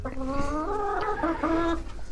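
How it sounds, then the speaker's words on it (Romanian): A Brahma rooster lets out a drawn, wavering clucking call, two tonal phrases in quick succession, loud and close with no talk over it. "mai am aici ultimul cocoșelul de Brahma, care ăsta, după cum îl știți foarte bine, ăsta este cocoșelul"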